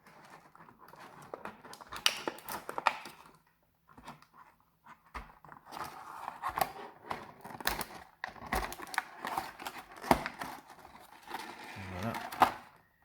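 Saint Seiya Shiryu divine armor V4 figure pieces by Great Toys are unwrapped from their packaging, giving repeated crinkling plastic rustles and small clicks in irregular bursts, close by, with brief talk between them.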